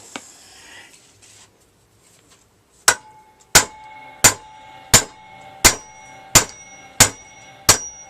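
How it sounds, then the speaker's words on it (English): Sharp metallic hammer strikes ring out at a steady, even pace, seven or eight blows, each leaving a brief clanging ring, after a quiet start, as a car drive shaft is driven out. "You might want to use a bigger hammer."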